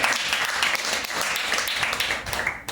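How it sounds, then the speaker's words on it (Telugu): A church congregation applauds together in steady, dense clapping that stays loud and even before easing off at the end, with faint voices mixed in. "అందరూ చప్పట్లు దేవుడికి స్తోత్రం చేద్దాం."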